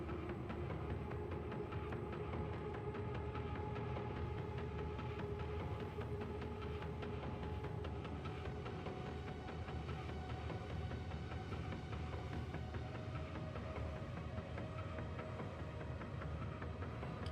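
A runaway train in Warhammer 40k Darktide rumbles on steadily and loudly throughout, a dense roar of rolling wheels and grinding metal with a faint high whine over it and no voices.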